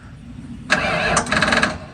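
Ford F100 pickup engine cranking over after a muffler shop visit, a brief starter whirr followed by a short broadband churning burst, close and fairly loud over a low background rumble.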